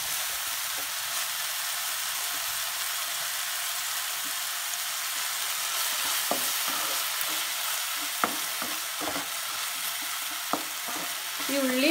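Onions frying in a pan over a medium flame, a dense, even sizzle throughout, with occasional spatula scrapes and taps growing more frequent toward the end.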